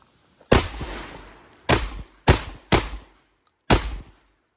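Five sharp, loud gunshots fired at Tacticon Armament body armor during a spalling test, in an irregular sequence with reverberant tails, each blast separated by roughly half a second to a second.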